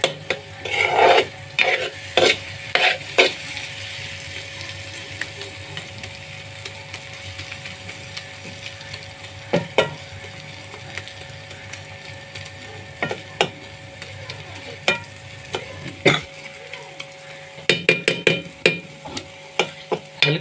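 Food being stirred and mixed in a pan over a low flame, scattered scrapes and knocks of a spoon against the pan with quiet pauses between them, soft sizzling underneath and no voices.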